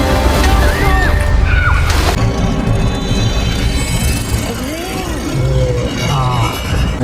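Someone thrown into water makes a loud, continuous splash and sloshing that persists throughout, with churning water and a brief crash near the start.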